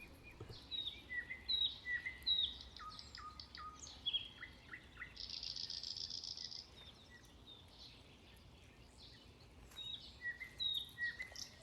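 Small birds at backyard feeders chirp and tweet in repeated short bursts, some close and some further off, with a brief rustle of wings partway through and no voices.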